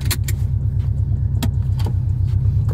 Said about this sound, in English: We're gonna go on a quick little test drive